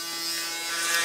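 A Braun Series 9 electric shaver pressed against the scalp while shaving the head gives a close, steady, high-pitched buzz that rises slightly as it scrapes along.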